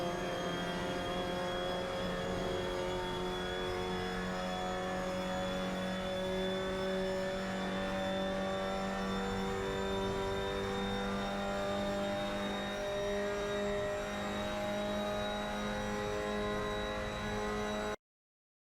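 Mazda MX-5 Cup race car lapping the Portimao circuit in the racing game Assetto Corsa, a steady close engine drone with sustained harmonic tones, continuous and loud throughout with no talking.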